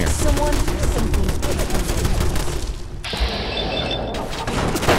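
Gunfire in the video game Fallout 4, dense bursts of loud rapid shots and booms filling the whole stretch, briefly thinning before the shooting picks up again, no talking over it.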